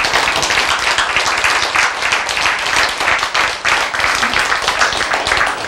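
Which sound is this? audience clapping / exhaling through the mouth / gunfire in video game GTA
audience clapping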